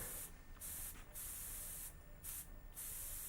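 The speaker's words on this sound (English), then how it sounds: "I'm just spraying away here for 40 PSI." Close airbrush spray hisses steadily at 40 PSI in several bursts, with brief pauses between them.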